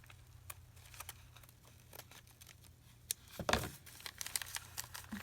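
Scissors cut paper from a cereal box junk journal, a soft close crinkling and snipping with a brief louder crunch partway through, over a low background hum.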